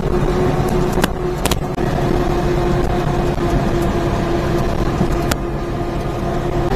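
A mini truck engine racing at speed, a steady loud drone with a faint whine, plus a few sharp clicks and knocks on top of the continuous roar.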